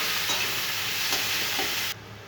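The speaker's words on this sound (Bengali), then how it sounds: "তো এখানে আমার উচ্ছেটা ভাজা হয়ে গেছে, কিছুটা ভাজা হয়েছে, পুরোটা না।" Bitter gourd frying in a pan, a brief steady hiss of oil with faint stirring taps, close and alone, cutting off abruptly near the end.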